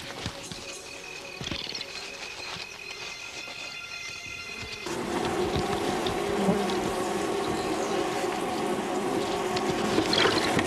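A dense swarm of bees hums and buzzes steadily around a honey badger clearing out a hollow log, loud and continuous, thickening partway through, with no voices.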